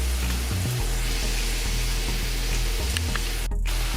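Stir-fry ingredients rinsed under running water, a steady, loud hiss of flowing water and spray that continues without break, with low hum and thumps underneath.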